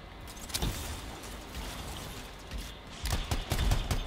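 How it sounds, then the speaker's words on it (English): Enemy fire in the video game Anthem crackles as sharp, scattered gunshot bursts, a few early and a denser cluster near the end, over a steady low game ambience with no talk. "Something over there is firing at us."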